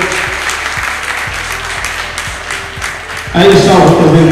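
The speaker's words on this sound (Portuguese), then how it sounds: "uma salva de palmas com mais força" Loud, dense applause from an event audience at an awards gathering, steady clapping that swells louder near the end, with an announcer's voice over it.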